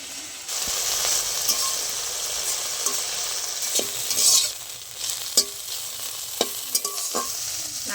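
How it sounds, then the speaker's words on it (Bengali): Thankuni leaves are turned and stirred in a hot wok, with a continuous sizzle carrying irregular scraping knocks from the utensil. The sounds are close and loud, and no one speaks. "ভালো করে নেড়ে চেড়ে একটু ভাপ দিয়ে নেবো থানকুনিগুলো।"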